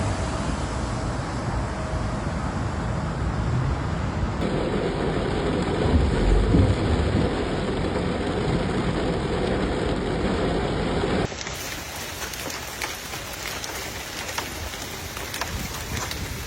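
Heavy rain pours down steadily during a slow-moving flash flood thunderstorm in West Virginia and Kentucky, a dense, constant roar of downpour that stays loud throughout, with no voices.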